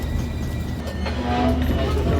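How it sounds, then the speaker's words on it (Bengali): A passenger train on the Jessore to Rajshahi line rolls slowly with a loud, continuous low rumble and a faint rhythmic rattle of the carriages, heard close from on board. "এখান দিয়ে ট্রেন স্লো যাচ্ছে কেন বুঝলাম না"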